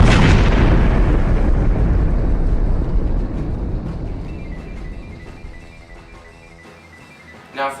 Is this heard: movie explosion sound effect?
yes